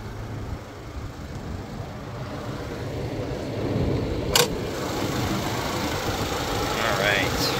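A 2023 Chevy Colorado LT with the 2.7 turbo engine idles with a low, even rumble under the open hood, heard close and steady, with a brief sharp rustle midway and no speech over it.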